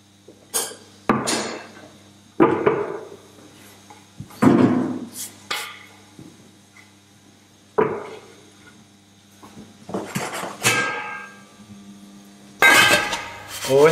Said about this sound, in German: die Croutons in die Pfanne geben